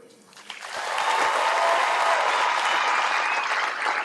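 A stands crowd at an Air Force graduation ceremony breaks into loud sustained applause and cheering for the class's top graduate, the clapping swelling quickly and holding steady throughout.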